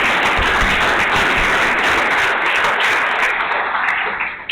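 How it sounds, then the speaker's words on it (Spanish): A seated audience applauds a young seminarian after his vocation testimony, loud continuous clapping from many hands filling the room and tapering off slightly at the close. "le damos un aplauso a Guillermo y le damos las gracias"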